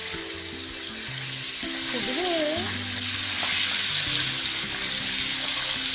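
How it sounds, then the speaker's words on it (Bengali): Pabda fish coated in salt and turmeric fry in hot oil, giving a dense, steady sizzle that swells slightly partway through, heard close with faint background tones beneath. "মাছগুলোতে একটু লবণ হলুদ মাখিয়ে হালকা করে ভাজা করে নেবো"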